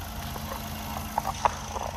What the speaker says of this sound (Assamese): সাউন্ড দেখিছে কি সাইলেন্ট ইঞ্জিন